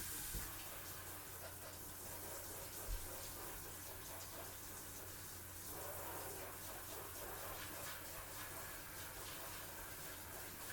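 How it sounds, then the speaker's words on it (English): Hot water runs from a kitchen tap over a metal cake scraper in a steady, soft hiss of flowing water that lasts throughout, faint and even with no talking. "I'm gonna run my scraper under hot water"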